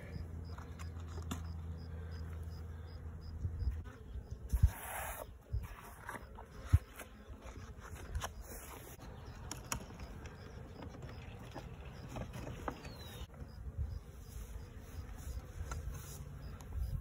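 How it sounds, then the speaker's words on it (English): Honey bees hum in a steady, faint drone from an opened barrel beehive, continuous throughout with occasional louder bee passes nearby and no talking. "got some bad bees in here"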